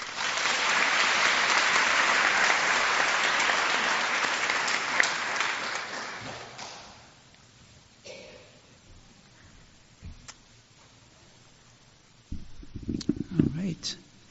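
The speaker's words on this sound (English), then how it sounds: "Please join me in one more round of applause." Audience applause at a pharmacy school white coat ceremony, loud and full for several seconds, then fading out into near quiet before a speaker begins talking near the end.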